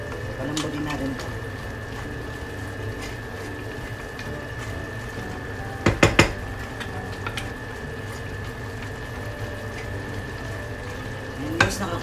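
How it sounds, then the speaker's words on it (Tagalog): Spinach simmering with coconut milk in a pan is stirred steadily over a low bubbling, frying background, with a few louder utensil knocks against the pan near the middle and end. "haluin lang natin"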